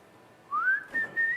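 A person whistles during a quiz show, a rising note followed by two short, higher held tones, clear and close in a quiet room.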